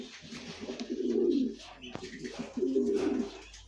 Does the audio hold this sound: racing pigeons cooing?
yes